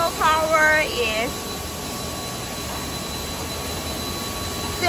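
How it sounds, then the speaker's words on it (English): The 7.5 kW main motor of an H post beam making machine runs with a steady, even industrial drone and a faint constant whine. Someone speaks briefly over it at the start. "Here is our main motor."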